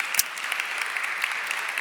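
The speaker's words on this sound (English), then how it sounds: "Wow, it's irritating that they're clapping, but they're not listening to me." Audience clapping at a Droidcon Italy conference talk on Apple PassKit: a sustained patter of many hands, fairly close and even, with a few sharper individual claps and no talk over it.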